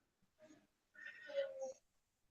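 A cat gives two meows, a short one followed by a longer, drawn-out cry, faint and close, with little else around it.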